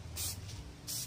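Spray gun applying a first coat of paint to a motorcycle fairing, two strong hissing bursts with a fainter one between, each lasting about a quarter second, close by over a low background hum.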